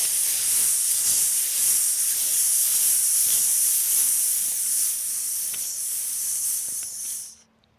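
Long, steady breath hiss of an S sound exhaled during a grounding qigong sequence, lasting several seconds with small fluctuations before cutting off abruptly at the end.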